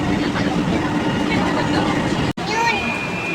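Train interior or platform rumble, a steady low rolling drone with murmuring voices of people around, cut by a brief dropout and a rising whine near the end.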